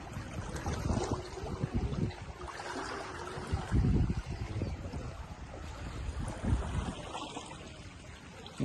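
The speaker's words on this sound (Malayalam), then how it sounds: "ഒരു മോട്ടോർ പേര." A motor boat runs across fast-flowing floodwater left by monsoon rains, its engine a steady low rumble mixed with rushing water and gusts of wind buffeting the microphone, fairly close and continuous throughout.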